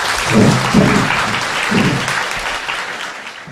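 An audience gives a lawyer a round of applause, dense loud clapping that swells early and then gradually tapers off, with a few voices heard faintly underneath.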